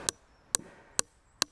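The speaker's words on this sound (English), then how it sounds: "I'm going to put a nail in just here" A nail is tapped lightly into wood by hand during a hand-tool build of a Viking-style house: four crisp, evenly spaced knocks about half a second apart, close by, with no talk.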